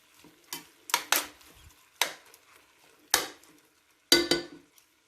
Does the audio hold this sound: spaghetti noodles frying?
yes